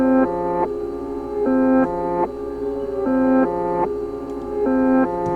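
Half-timed piano melody shaped with EQ, mids boosted and lows cut, moving in slow stepped chords that change every second or so. It is clear and fairly loud, with no talking over it.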